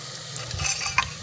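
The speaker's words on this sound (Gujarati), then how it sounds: "2 મિનિટ લસણને એને સડવા દેવી, કારણ કે માટીનું વાસણ છે ને થોડીક વાર લાગે સડતા તે." Garlic sautés in a clay pot with a soft, low sizzle and faint scraping stir sounds, plus a couple of light clinks, heard close and quietly.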